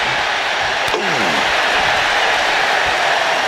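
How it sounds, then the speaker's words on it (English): A large arena crowd at a WWE Great American Bash championship wrestling event roars and cheers steadily, a dense, loud wash of voices with a sharp impact sound early on. "this crowd is loving every second of it"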